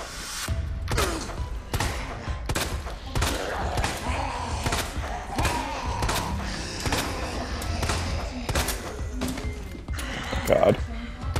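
Gunshots in Resident Evil 2 Remake, Ghost Survivors mode, crack out as a run of sharp, evenly spaced shots across the clip, loud and close, with someone talking over the action.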